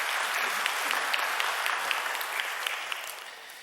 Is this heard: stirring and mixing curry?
no